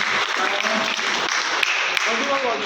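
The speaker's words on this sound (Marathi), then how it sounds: "उपस्थितांनी जोरदार टाळ्या वाजवून या कवीचा" Steady applause from an audience at a poetry award ceremony, a dense patter of clapping hands lasting a few seconds, with a couple of sharper claps standing out.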